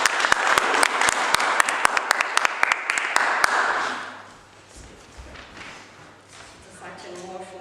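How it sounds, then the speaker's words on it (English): An audience applauds as Irina is welcomed on stage: dense, loud clapping with sharp individual claps for about four seconds, then dying away into a quieter room where a voice begins to speak. "So please welcome on stage with a great applause,"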